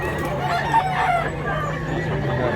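Chickens and roosters for sale at a busy livestock market in Mantalungon, Barili, Cebu, clucking and crowing amid a steady crowd murmur, with people talking nearby throughout.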